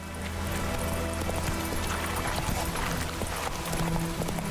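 Roach, the horse in The Witcher 3, gallops steadily with continuous clip-clop hoofbeats over a dense game soundscape, close and fairly loud, with no talking.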